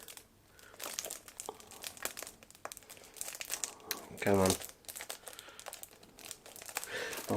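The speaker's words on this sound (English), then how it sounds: "So I'm going to open this as gently as I can." Plastic wrapping on a package crinkles in bursts as it is worked open by hand, with one louder crunchy rustle near the middle; a voice speaks briefly over it.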